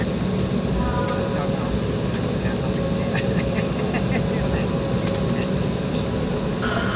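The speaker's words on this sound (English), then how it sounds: "We are heading for 24 right for takeoff here." Airliner at Toronto Pearson heading to runway 24 right for takeoff, its engines a steady cabin-level drone and hum with faint clicks and rattles on top.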